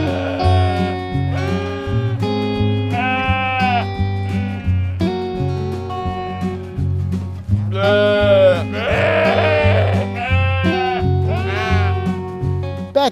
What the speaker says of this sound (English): and you'll find sheep.